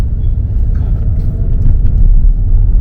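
A Honda Civic 1.8 engine runs at a steady idle, a loud close low rumble that continues evenly throughout with no talking.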